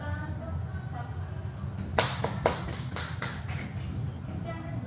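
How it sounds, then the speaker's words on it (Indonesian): Students in a classroom microteaching session give a short round of handclaps, a quick cluster of sharp claps lasting under two seconds, fairly faint against steady room noise. "Tepuk tangan untuk Fatma."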